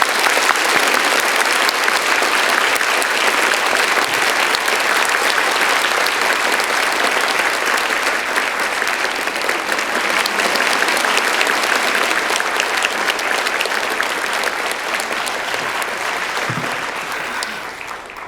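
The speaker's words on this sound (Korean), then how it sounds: "지구촌 교회에서 보낼 수 있는 우리 뜨거운 박수로 환영합니다" A church congregation at a revival meeting applauds warmly to welcome a visiting pastor. The clapping is loud, thick and sustained for the whole stretch, fading only slightly near the end.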